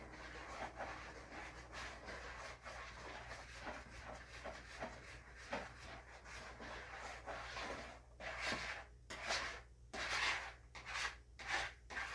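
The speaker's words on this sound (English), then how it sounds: "I'm going to use a whisk for this." A whisk scrapes and stirs through ingredients for a lemon ice box pie in a bowl, a soft, quiet rhythmic rubbing that grows into sharper, more distinct strokes toward the end, with no speech.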